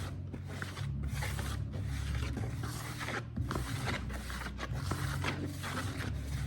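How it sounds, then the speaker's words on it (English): Dough for corned beef dumplings, made from flour with butter rubbed in, kneaded by hand. Close rhythmic rubbing and pressing repeats in strokes about half a second apart and continues steadily. "And then we're gonna start kneading."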